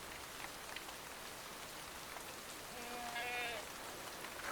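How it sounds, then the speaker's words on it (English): Torrential rain pours down in the Welsh mountains in autumn, a dense, even hiss of drops hitting the ground, steady and moderately loud, with a brief faint bird-like call partway through. "At this time of year, torrential downpours are an almost daily occurrence."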